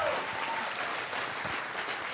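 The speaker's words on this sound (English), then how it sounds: "You should give yourselves a round of applause for that." An audience at a corporate product launch event breaks into applause, a dense, steady wash of clapping that fills the room at even loudness for a couple of seconds, no talking over it.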